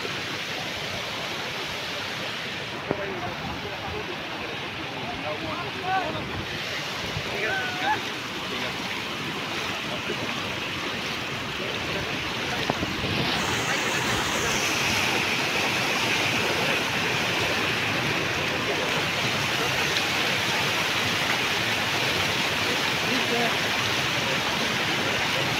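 Out-of-control floodwater rushing through a flooded area of Hailakandi, Assam, a steady, dense roar of churning water that holds near and loud for the whole stretch without pause.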